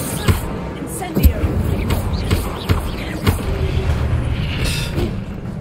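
Spell-casting and combat effects from the video game Hogwarts Legacy, including an Incendio fire spell, sound as a string of booming thumps and whooshes over busy game noise.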